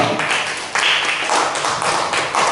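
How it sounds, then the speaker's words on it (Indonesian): An audience of teachers applauds together during a school training session, a dense, steady wash of clapping that swells a little partway through and carries on for a couple of seconds without talk. "kita berikan aplaus untuk kita semua"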